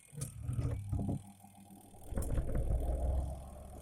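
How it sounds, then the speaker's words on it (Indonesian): A washing machine's spin-dryer motor is switched on after a few knocks and handling sounds, then a low rumbling motor hum builds and holds steady as the drum spins, close by with no talk. "Ini pengering, kita nyalakan."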